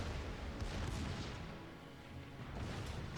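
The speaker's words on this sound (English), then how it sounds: "Omaha is firing AP rounds" Warship guns firing armour-piercing rounds in World of Warships, a dense continuous rumble of distant naval gunfire and booms with no voices.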